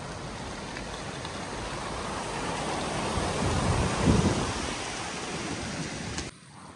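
Swollen, rain-fed streams rushing down the hillsides into the River Orchy in Glen Orchy: a steady broadband roar of fast water that swells slightly midway, then drops abruptly near the end.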